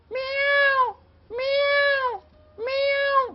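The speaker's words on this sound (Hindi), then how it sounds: "बिल्ली" A cat meows three times in an even rhythm, each call long, loud and close, with short pauses between and no talk over it.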